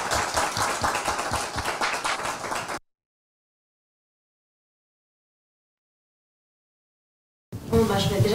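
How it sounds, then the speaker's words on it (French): A small audience at a discussion event claps for the participants in a brief burst of applause that cuts off abruptly into silence, followed by a short return of sound at the end. "Est-ce qu'on peut applaudir nos participants?"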